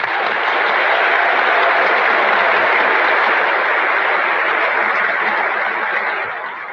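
Archival recording of an audience at the 1939 Academy Awards applauding Hattie McDaniel's supporting actress award: dense, sustained clapping that stays full and steady, then tapers slightly at the end.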